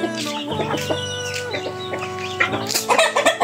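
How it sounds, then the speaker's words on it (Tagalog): Chickens clucking close up, with a rooster crowing over them; loud, overlapping calls with no talk. "Dami yung manok."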